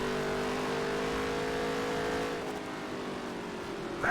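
A race car engine in NASCAR Heat 3 drones at a steady high pitch, holding a sustained tone before easing slightly and swelling again at the end, with no talking.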